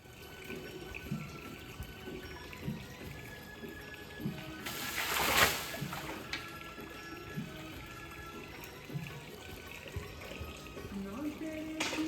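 Water runs and splashes while a temple floor is washed in the early morning, with a brief louder gush midway and softer trickling around it as someone talks in Hindi.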